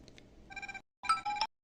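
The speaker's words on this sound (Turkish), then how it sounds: "Ben telefon çaldı ona baktım." A mobile phone ringtone plays in short bursts of bright, bell-like tones, then pauses briefly and rings again, fairly close and clear, during a PES 26 mobile football game session.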